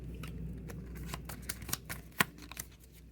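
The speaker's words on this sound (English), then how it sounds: "I'm going to go ahead and shuffle these up." A deck of playing cards is shuffled by hand at a tabletop game, giving quiet, close, irregular flicks and soft riffling ticks with one sharper snap.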